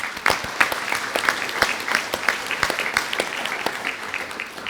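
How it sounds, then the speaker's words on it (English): Audience at a university senior breakfast clapping steadily for faculty and staff, a dense, even round of applause from a large room that holds throughout. "I would like for you to give your faculty and staff a clap"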